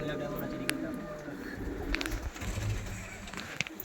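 Black Diamond pigeons coo softly in a loft, their low, rolling calls repeating steadily against background noise, with a few sharper bird sounds and faint voices around them.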